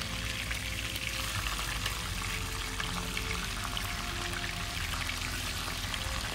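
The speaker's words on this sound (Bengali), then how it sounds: "হালকা করে ভেজে নিতে হবে" Four quail birds fry in oil in a pan, giving a steady, dense sizzle with crackling that stays even and continuous throughout, with no voices.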